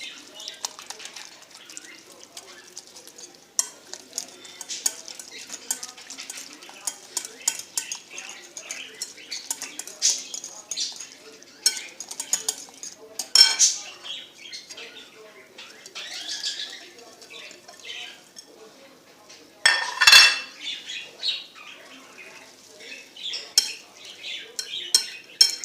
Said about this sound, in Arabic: كنبداو بتحريك المكونات.